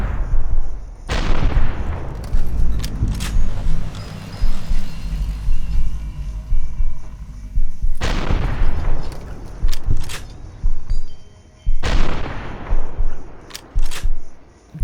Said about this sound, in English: Explosive rounds in an anti-material rifle.